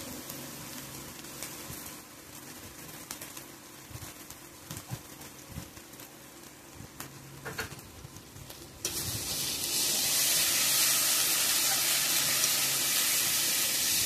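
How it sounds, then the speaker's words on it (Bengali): Quiet crackle and stirring at first, then a loud, bright sizzle bursts in and holds steady as garlic fries hard in hot mustard oil. "রসুনটা ভালোভাবে ভাজা ভাজা হয়ে গেছে"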